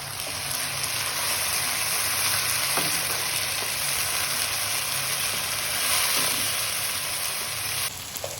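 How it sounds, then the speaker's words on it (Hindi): Ginger garlic paste with chicken frying in a pan, a steady, continuous sizzle running the whole time at close range with no talk. "ये अदरक लहसुन भी अच्छी तरह से हमारा फ्राई कर लिया है"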